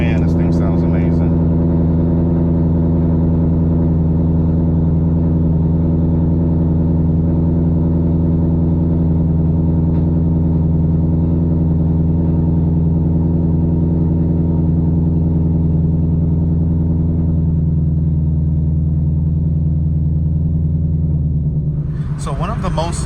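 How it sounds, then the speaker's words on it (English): A 2024 Ford Mustang GT fitted with a Whipple supercharger fires up and settles into a loud, deep, steady idle rumble close by, with a brief rev at the end. "Let's give it a start up. Man, this thing sounds amazing."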